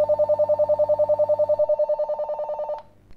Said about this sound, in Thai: เหมือนมันดังอ่ะเหมือนโทรศัพท์เข้าอ่ะ